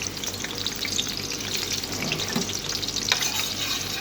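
Garlic fries in hot oil in a pan with a steady, fairly loud sizzle that runs without a break. A few faint clinks and stirring sounds come through, and nobody speaks.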